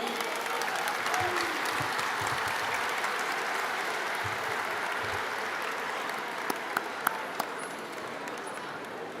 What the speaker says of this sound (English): Could we hear another round of applause for Humble G?